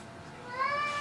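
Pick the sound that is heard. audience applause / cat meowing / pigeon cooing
cat meowing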